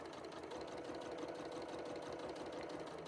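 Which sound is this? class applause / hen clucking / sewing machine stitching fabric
sewing machine stitching fabric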